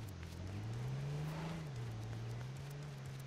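A car engine drones steadily with a slight rise and dip in pitch, sounding like a vehicle driving along in a video game.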